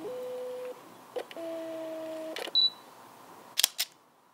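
A camera's autofocus motor gives two short whirring buzzes, then a tiny electronic beep, then a quick double click of the shutter, all close and quiet with no talking.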